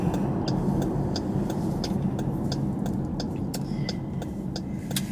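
A car pulls up to a gym, engine humming low and steady from inside the cabin, with a soft repeated ticking over the continuous road and motor drone; nobody speaks.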